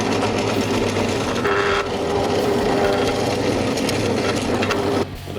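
A Parkside PTBM 500 bench pillar drill, running at low speed, bores a hole in wood with a steady grinding, scraping drone for several seconds before the bit pulls out near the end.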